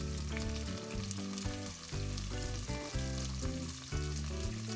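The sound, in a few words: leeks sautéing in oil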